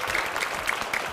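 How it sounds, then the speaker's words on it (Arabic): An audience at a school awards ceremony applauds teachers being honoured, producing steady, dense clapping that fills the whole brief moment with no voices over it. "صفقوا لهم"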